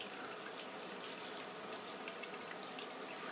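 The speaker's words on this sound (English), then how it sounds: "I'm gonna put a little water on my face here." A sink tap runs steadily with water splashing, a constant close hiss of flowing water during a wet shave.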